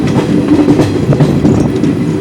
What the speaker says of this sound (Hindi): ट्रेन पट्टा शाही स्टेशन की ओर बढ़ती हुई